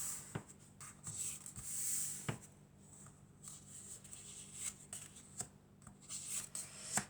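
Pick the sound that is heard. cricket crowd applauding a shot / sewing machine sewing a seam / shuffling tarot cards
shuffling tarot cards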